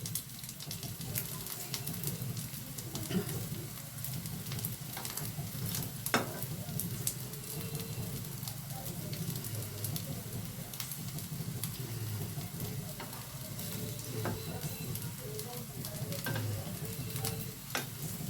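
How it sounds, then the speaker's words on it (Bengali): Potato tikka frying steadily in a pan, a continuous close sizzle with soft scraping as the patties are turned, no voices over it. "উল্টে পাল্টে সাইডগুলো আমি একটু ভেজে নিচ্ছি।"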